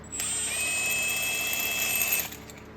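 A power tool spins a 13 socket onto a brake caliper bolt, a steady high-pitched whirring drill whine that runs for about two seconds and then stops, close and alone.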